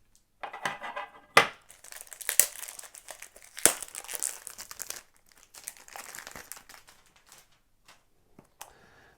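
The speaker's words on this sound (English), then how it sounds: "let's open it up and let's take a look at the packaging" Cardboard perfume box packaging being opened, giving irregular crinkling, rustling and sharp crisp tearing noises up close, with scattered louder snaps amid softer paper handling and no talking.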